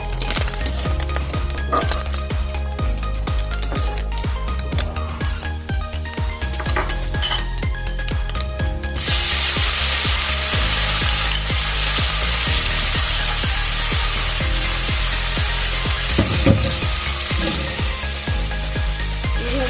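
Small chuno fish fry in oil for a Bengali fish curry, a steady close sizzle with metal utensil clinks and stirring scrapes, the frying hiss swelling loudly and filling the pan partway through.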